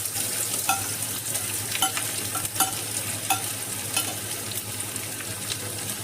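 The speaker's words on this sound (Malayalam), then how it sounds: "കുറച്ച് വെളിച്ചെണ്ണ ചൂടായി വരുമ്പോഴത്തേക്ക് അതിലേക്ക് 2 മീഡിയം ടൈപ്പ് സവാള സ്ലൈസ് ചെയ്തത്," Sliced onions fry in hot coconut oil with a steady, close sizzle, broken by a few sharp clicks and scrapes of a spoon stirring the pan.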